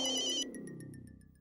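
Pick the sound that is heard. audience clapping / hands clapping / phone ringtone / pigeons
phone ringtone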